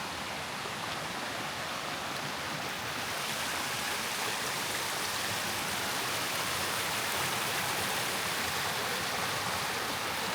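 A constant rushing roar of a waterfall feeding a river in a Swiss forest, loud and steady throughout with no voices.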